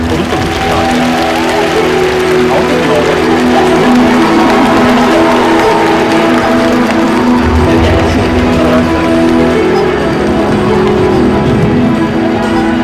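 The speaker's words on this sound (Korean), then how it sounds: "큰 박수 부탁드립니다." A large audience applauds and cheers as a film's director and cast come out for an open talk at the Busan International Film Festival, a loud, dense, steady wash of clapping and crowd noise lasting throughout.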